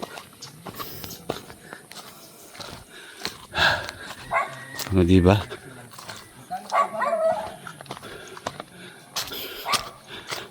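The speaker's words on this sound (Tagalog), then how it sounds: "Ay, putya, may aso." A dog barks a few times on a hillside in Daraitan, Tanay, Rizal, the short yelps mixed with people talking nearby and scattered background noise.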